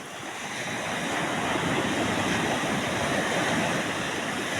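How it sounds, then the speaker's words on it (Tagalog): Big ocean waves crashing in a loud, continuous surf roar at a resort beach in General Nakar, Quezon, building in the first second and then holding steady, with wind noise. "Ang lalaki ng alon."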